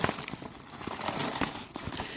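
A knife slicing open a Blade HQ shipping package holding a Kershaw Bareknuckle, heard as close, continuous crinkling and tearing of packaging with small scraping bursts throughout.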